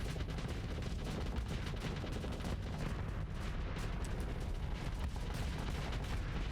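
Plasma cannons and other ship weapons fire in a Starsector space battle, a dense, continuous barrage of crackling blasts and low booms, steady and loud throughout with no voices.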